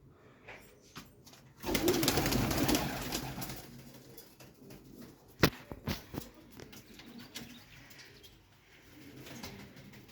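Pigeons cooing in low, throaty murmurs amid rustling and occasional wing flaps, loudest early on, then quieter and scattered.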